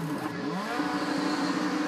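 A Mercedes-Benz DTM race car sits in the pit lane with its engine running, giving a steady, fairly loud whirring drone that rises only slightly in pitch.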